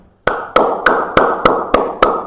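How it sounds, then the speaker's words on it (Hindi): One person claps their hands seven times, sharp and close, in an even rhythm about a third of a second apart after a brief silence. No other sound accompanies the claps. "ताली क्यों बजाइए पता है?"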